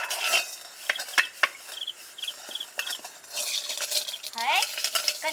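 Utensils and dishes clatter and scrape while being washed at home, in an irregular run of sharp clinks and knocks at moderate volume with rustling between them. No one speaks.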